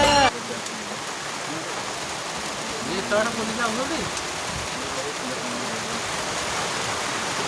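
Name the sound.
rain falling at a hill viewpoint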